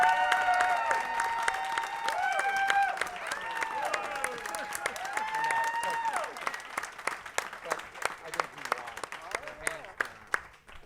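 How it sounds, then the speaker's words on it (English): A studio audience at a game show applauds a contestant in a steady, full round of clapping that thins toward the end, with whistles and cheers layered through the first half. "By applause this evening, ladies and gentlemen"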